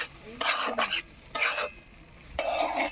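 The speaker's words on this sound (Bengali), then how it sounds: "একটু নেড়ে চেড়ে নিব একটু সময় নেড়ে চেড়ে" A spoon stirs shrimp for mustard-steamed prawns in a pan, making three close scraping, sizzling strokes separated by short pauses.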